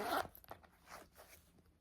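A zipper on the back pocket of a purse with raised 3D applique detailing is pulled in quick, quiet rasping strokes, close and faint with no talking.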